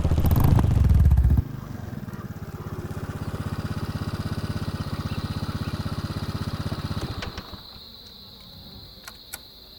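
A motorbike engine revs hard up close and then settles into a steady buzzing drone as the bike drives off, fading out after several seconds and leaving faint background sounds.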